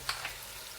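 Crushed garlic hits hot oil in a pan and gives a soft, steady sizzle with a couple of faint crackles at the start, quiet and close with no talking.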